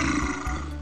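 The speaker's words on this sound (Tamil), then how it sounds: "அப்போது கரடி ஒன்று உருமும் சத்தம் கேட்டது." A bear growls in a children's animal story: a deep, sustained roaring growl, close and loud, with no voices over it.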